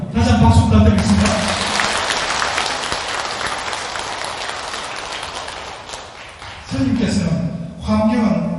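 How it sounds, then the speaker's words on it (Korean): Audience applause fills a Buddhist dharma ceremony marking the publication of the Avatamsaka Sutra at a Busan temple, a dense sustained clapping wash between stretches of amplified speech at the start and end. "다시 한번 박수 부탁드리겠습니다."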